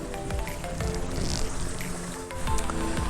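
Water splashes and trickles in the water maze fountain at Hever Castle gardens, a busy mix of running streams and spattering jets heard fairly close and continuous.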